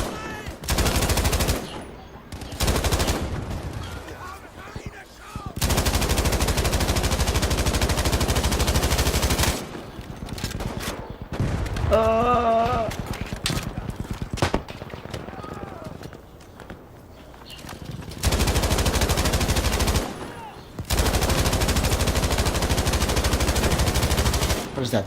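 A heavy machine gun fires in a video game in long sustained bursts separated by pauses, loud and close, with a player talking at times between the bursts.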